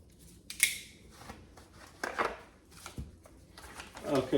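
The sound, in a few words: multi-tool scissors cutting gasket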